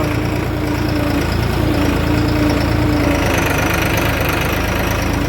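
Several tractor engines idle steadily in a queue at a sugar mill, a continuous low rumbling drone with a faint knocking pulse, close and loud throughout with no talking.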